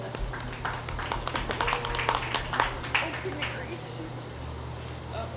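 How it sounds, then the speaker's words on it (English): A crowd at a county fair claps for youngsters showing senior does, a dense, steady patter of many hands at middle distance that swells briefly and then thins out. "let's give these kiddos a round of applause for their senior does"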